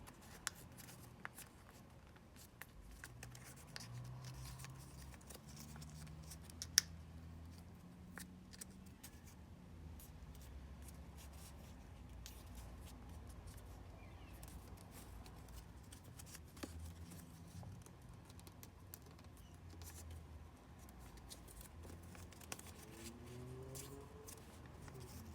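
Paper is handled and creased in reverse folds for an origami mother-and-child model, giving soft, faint crinkles and rustles with occasional sharper crisp clicks over quiet room tone.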